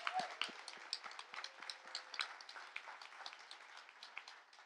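A small audience claps at a cannabis industry awards event, light scattered hand claps with an uneven rhythm, fairly faint and continuing for several seconds.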